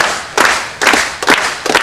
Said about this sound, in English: I would like you to clap on this timing